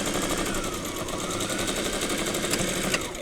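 A sewing machine runs a quarter-inch seam through quilt strips, its steady mechanical whir continuous and close, with no voices.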